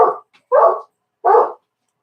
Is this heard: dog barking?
yes